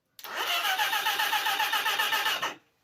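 A motorcycle engine, restarted after sitting for six years, cranks and runs for a couple of seconds with a rapid, even rhythmic chugging, close and loud, then stops abruptly.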